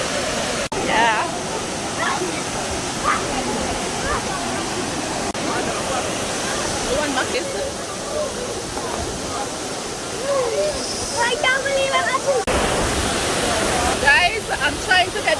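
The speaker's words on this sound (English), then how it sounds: "we're finally at the waterfall" A waterfall in Panama rushes steadily nearby while people talk and call out over the constant splashing roar.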